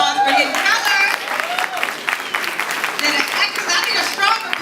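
Applause from an audience at a talk, dense clapping and crowd noise sustained throughout, with voices calling out over it.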